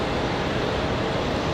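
A Republic Airways jet airliner at Raleigh Durham airport gives a broad, steady roar that fills the whole moment without pause, loud and close, with no voices.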